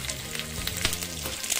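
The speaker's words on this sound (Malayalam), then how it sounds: "തിളച്ചിട്ട് നമുക്ക് കടുക് തളിച്ചിടാം. ഒന്ന് കടുക് തളിക്കട്ടെ." Mustard seeds sizzle and crackle while they temper in hot oil for a prawn, drumstick and mango curry, a close, steady frying hiss with small popping bursts, and no talk.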